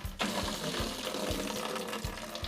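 Water drains from the rear differential of a Hatchet Coronet car, a soft steady trickle and splash with faint regular knocks underneath, fairly quiet and alone.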